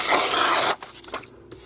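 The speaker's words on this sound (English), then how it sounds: "And I like to kind of cut these into larger strips." Scissors cutting through book pages into strips, a long steady rasping slice followed by a few shorter snips and rustles, close and crisp, no talking.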